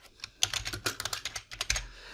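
Fingers typing on a computer keyboard in quick, uneven bursts of close clicking keystrokes, with a short pause in the middle and no voices.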